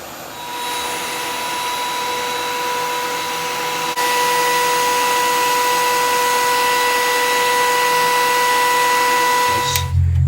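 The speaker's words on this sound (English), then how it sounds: "it gets pretty loud, especially with the shop vac running at the same time" A wood planer and a shop vac run together in a woodshop, a loud steady droning roar with a high whine that swells slightly partway through and holds, then cuts off abruptly at the end.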